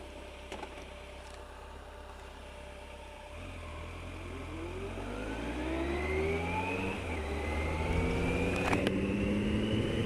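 A motorcycle engine idles, then rises steadily in pitch as it pulls away and accelerates, with a gear change near the end.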